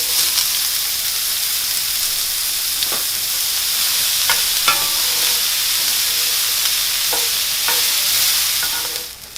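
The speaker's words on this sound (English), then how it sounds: "now we're going to add our onions" Onions stirred and sizzling in a hot pan just used to sear meat, a steady loud hiss of frying with occasional scrapes and clinks of the utensil, no voices.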